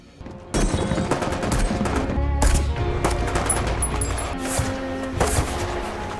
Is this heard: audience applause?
no